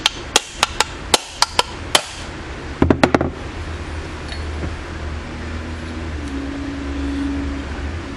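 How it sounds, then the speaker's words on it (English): A brass hammer taps a bound plate in a 1971 Camaro power steering pump: a run of sharp, evenly spaced metallic knocks, then a quick cluster of hits, followed by a low mechanical hum. "Let me try tapping. I'm using a brass hammer."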